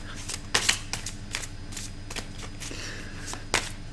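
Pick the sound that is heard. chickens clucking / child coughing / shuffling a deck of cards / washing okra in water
shuffling a deck of cards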